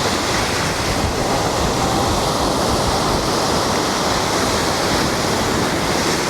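Surf at Old Orchard Beach roars in a continuous, loud wash of breaking waves, with some wind buffeting the microphone and no voices.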